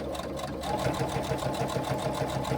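A sewing machine runs steadily, stitching a double row along the handle of a fabric on-the-go pouch, its needle chattering in an even, rapid rhythm close up, with no voice heard.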